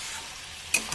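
Asafoetida dropped into hot oil over Bengali teto chochori, a steady low fry hiss that flares into a brief, sharp sizzle near the end, with no talk.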